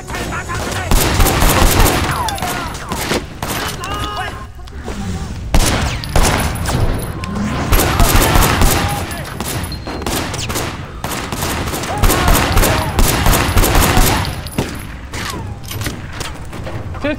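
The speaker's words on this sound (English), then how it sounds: "You know, you shouldn't be shooting at me like that." Rapid bursts of automatic gunfire and single shots ring out loud and near in the Sleeping Dogs video game, repeating throughout with brief lulls.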